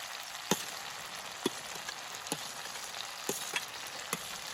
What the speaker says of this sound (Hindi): थोड़ा देर पनीर को फ्राई करेंगे। अब मटर डालेंगे।